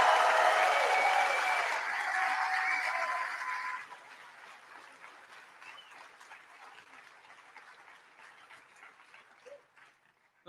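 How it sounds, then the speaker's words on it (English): Crowd applause at an evening political rally on a farm in Lititz, Pennsylvania, loud and dense for about four seconds, then thinning to lighter scattered clapping that fades out. "how about a big round of applause for the whole Bollinger family"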